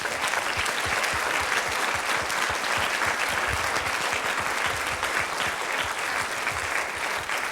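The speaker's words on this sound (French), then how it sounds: "Donc je voudrais simplement déjà qu'on les applaudisse et qu'on les remercie de tout notre cœur." Applause at a public debate with healthcare workers in Briare, dense and sustained clapping from a sizable crowd, loud and even throughout with no break.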